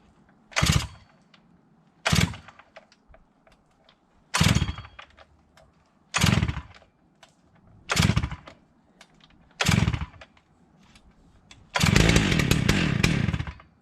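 A Holzfforma G888 chainsaw is pull-started on full choke outdoors: six sharp, loud bursts from the starter cord come at regular intervals, then a longer sustained rasping burst as the engine briefly catches.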